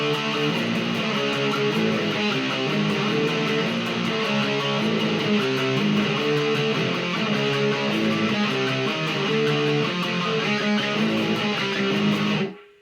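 An electric guitar plays a dense, loud, distorted power-chord riff from a song, with steady driving down strums that stop abruptly at the end.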